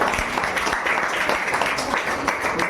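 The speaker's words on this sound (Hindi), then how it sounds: "एक बार गुरुजी के लिए ताली बजा दो।" A group claps for the teacher at a Sanskrit-speaking course's closing ceremony, a dense, continuous burst of applause that holds steady the whole time.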